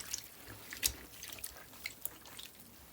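Sparse water drips and small splashes as a cashmere sweater is dampened in barely warm water with shampoo, quiet and close, irregular light patters with a faint background hiss.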